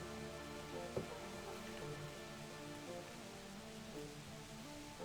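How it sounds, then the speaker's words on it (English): Rain falling in Final Fantasy VII, a steady soft hiss spread across the whole stretch, blended with a sustained game music drone and one brief tap near the start. "It's raining."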